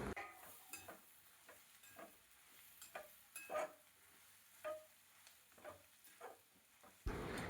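Mashed boiled potatoes for a masala dosa filling are stirred in a kadhai, giving quiet, repeated scraping strokes of a spatula against the pan in an irregular rhythm.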